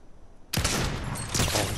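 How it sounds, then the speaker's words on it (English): A Fortnite solo match erupts in a sudden, loud burst of gunfire after a quiet moment, with a dense volley of shots and a second hard crack near the end. "Where are these shots coming from?"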